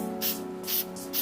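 Aerosol spray colour applied to peeling bonded leather in a few short hissing bursts, each a fraction of a second, close by against a steady low hum.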